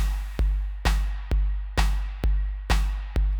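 Slow electronic drum pattern with deep kick and a layered clap, everything drowned in heavy reverb; seven or so evenly spaced hits with long washy tails, loud and alone.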